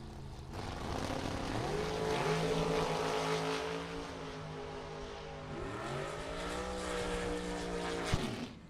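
Drag racing engines, a dragster and a Chevrolet Camaro, roaring at a distance in a steady rising drone that dips and climbs again as revs shift, with no talk over it.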